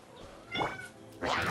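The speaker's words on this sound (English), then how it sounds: "I'm hearing cats." Cats meow in a game, two distinct drawn-out meows heard close and clear over a steady background hum, with no talk.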